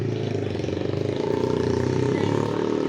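Motorcycle engine idling or running close by, a steady loud rumble with rapid pulsing throughout, no speech over it.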